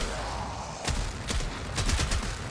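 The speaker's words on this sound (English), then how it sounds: "And now I can shoot again." Trumna gun in Warframe firing at enemies, several sharp heavy shots in quick succession after a short lull, loud and close over steady background game noise.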